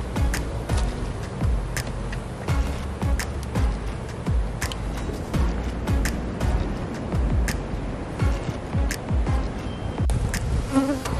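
Bees swarm and buzz steadily around backyard beehives during a hive inspection in Illinois, a dense close insect drone with individual bees zipping past near the microphone.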